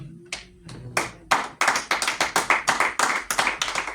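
A church congregation breaks into applause, many hands clapping in a dense, rhythmic burst that builds after a few scattered claps and then sustains steadily and loudly.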